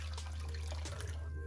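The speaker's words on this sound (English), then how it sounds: "And then I'm gonna add my water." Water is poured into a pot of thick soup, a brief close splashing trickle over a low steady hum.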